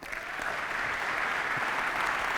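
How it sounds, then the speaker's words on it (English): Sustained applause from a conference audience at the opening session of a Java user group event, a dense, steady wash of many hands clapping that swells slightly and holds at an even level throughout. "I would like to have a round of applause for everyone involved in this"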